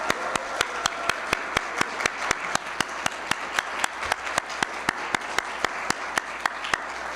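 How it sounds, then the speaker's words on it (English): Applause for graduates at a River Valley Community College commencement ceremony, a broad wash of crowd clapping punctuated by one loud, evenly timed clap repeating close by about every third of a second throughout. "Could we have one last round of applause for our graduates of 2025?"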